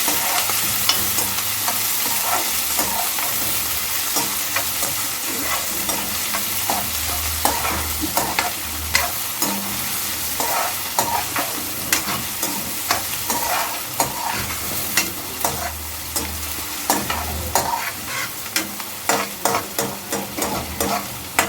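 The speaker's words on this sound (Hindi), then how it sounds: "अब डाल रही हूँ मैं इसमें प्याज" Chopped onions frying in hot oil for black chana dal, a loud continuous sizzle close up, broken by repeated scraping clicks of a spoon stirring in the pan.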